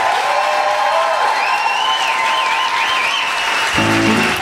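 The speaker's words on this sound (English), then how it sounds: "Please give a round of applause" An audience at a live comedy podcast recording applauds steadily throughout, with music starting near the end.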